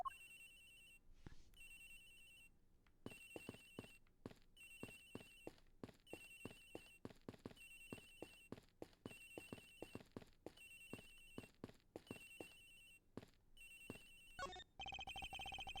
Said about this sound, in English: It's ringing from somewhere, sir.